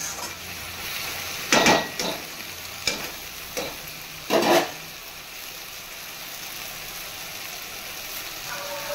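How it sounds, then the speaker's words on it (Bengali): Kalmi greens (water spinach) fry with turmeric, salt and green chilli in a pan while a spatula scrapes them, several brisk stirring strokes in the first five seconds over a constant close sizzle that continues alone afterward. "একটা কাঁচা লঙ্কা দিয়ে দিলাম, আরও দিয়ে শাকটাকে ভালো করে নেড়ে ঢাকা দিয়ে দেবো"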